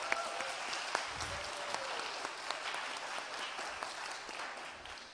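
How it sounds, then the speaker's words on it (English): Steady applause from an audience at a youth forum results presentation, a continuous wash of many hands clapping at moderate level with a few sharper individual claps standing out. "they deserve a big applause"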